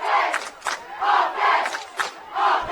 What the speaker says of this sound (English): Crowd chanting offense here.